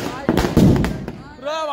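Several sharp firecracker bangs crackle in quick succession at a Dussehra Ravan effigy burning, loud and close, followed by a voice speaking over the fading noise.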